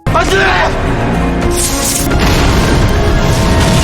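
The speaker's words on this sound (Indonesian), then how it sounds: "Saat Soo-hyun menyalakan lampu, terjadi ledakan." A loud explosion in a drama, set off when a light is switched on: a sustained, heavy rumbling blast with crashing, cracking debris and a brighter burst partway through.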